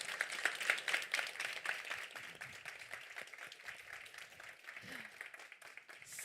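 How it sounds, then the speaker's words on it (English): Quiet, distant applause from the audience for a panel at a report launch event on sustainable and healthy eating, individual claps distinct and rapid at first, then thinning out. "give them a round of applause, please"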